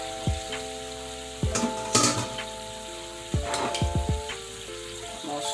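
Fish sizzling in hot oil in a pan for a Jamaican-style docta fish with tun cornmeal, a steady frying hiss broken by clinks and scrapes of a utensil against the pan, with a faint electronic tone running beneath.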